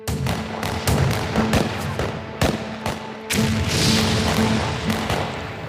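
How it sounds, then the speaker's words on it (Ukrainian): Loud booming blasts and sharp cracks of war explosions near a village sound repeatedly over a constant rumbling background, irregular and forceful. "Гучні вибухи тут лунають постійно."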